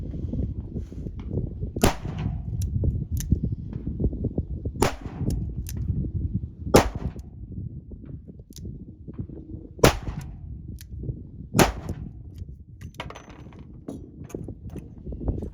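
Sharp, loud revolver shots from a Smith and Wesson Model 36 at a 7-yard target and 25-yard steel, fired singly at irregular intervals of a second or more over steady low outdoor rumble, with no talk.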